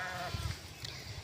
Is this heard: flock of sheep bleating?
yes